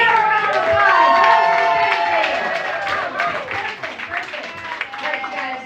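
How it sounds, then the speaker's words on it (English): A live storytelling game show crowd claps and cheers for a contestant, loudest at first and then tapering into scattered clapping and chatter as voices carry over it. "give her a round of applause."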